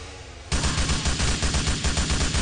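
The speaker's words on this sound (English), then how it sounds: "Is that you shooting, Sean?" A player firing a gun in the video game GTA 4: after a half-second of quieter background, a loud, rapid, steady burst of automatic gunfire rattles on continuously, close and alone.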